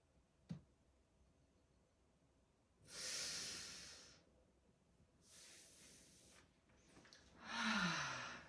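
Slow, deep breaths during a morning yoga breathing exercise, close and soft, with several long airy inhales and exhales separated by quiet pauses and one brief sniff early on.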